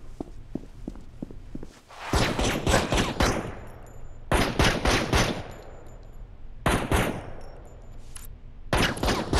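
Rapid automatic gunfire in an Android mobile video game, four loud sustained bursts of rattling shots with brief pauses between, preceded by a few faint ticks, no voices heard.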